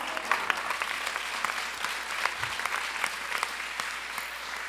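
A church youth congress congregation applauds during a Sunday morning sermon, a continuous, evenly dense wash of clapping from a large crowd heard at moderate distance.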